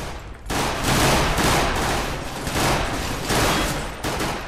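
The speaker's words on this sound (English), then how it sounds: "He's trying to fucking burst fire from long range" Rapid gunfire in Counter-Strike: Global Offensive, a dense crackling barrage of shots that runs almost unbroken after a short quiet start, loud and close, with no talk over it.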